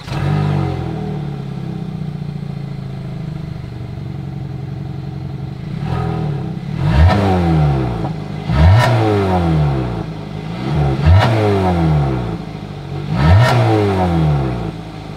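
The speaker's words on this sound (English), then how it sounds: "As always, here is that exhaust clip." A 2022 Hyundai Tucson SUV with a single exhaust idles steadily, then revs sharply four times in a regular rhythm, each blip rising and falling back to idle, loud and close with no talk.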